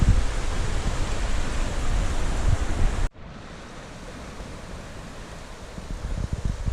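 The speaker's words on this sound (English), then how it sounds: "that's a beautiful little waterfall." A small waterfall on a forest creek gives a steady, dense rushing hiss close by, cutting off abruptly and resuming slightly quieter.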